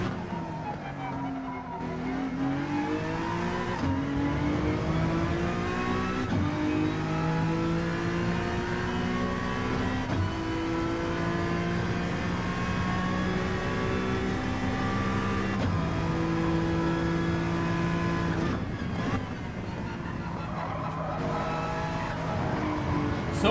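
Race car engines revving and shifting through gears in Gran Turismo 7, a loud steady drone that rises in pitch, drops at each shift and climbs again, with occasional tyre skids.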